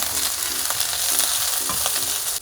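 Ginger frying in a little hot oil in a pan, a loud, dense, continuous sizzle close by with faint intermittent scraping underneath.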